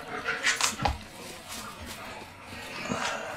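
A dog in the video game Like a Dragon: Ishin! sniffs and lets out brief whimpers and yips, a few close short sounds over a low background, with no talking.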